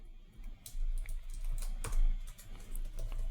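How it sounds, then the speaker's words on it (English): Typing on a computer keyboard while writing web form code, a quick irregular patter of close key clicks with a few louder strikes, heard alone with no talking. "So in here, I'll type input."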